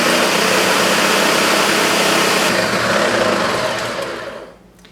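A small blender from a DIY hot sauce making kit runs loud and steady with a dense whirring buzz, then winds down and cuts off near the end.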